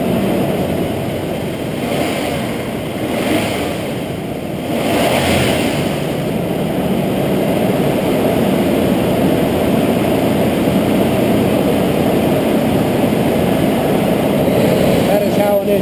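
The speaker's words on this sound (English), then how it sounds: "That is how an engine should sound." A 2001 Nissan Xterra's 3.3-litre V6 replacement engine runs close by with a loud, steady drone, swelling slightly early on and then holding an even tone throughout.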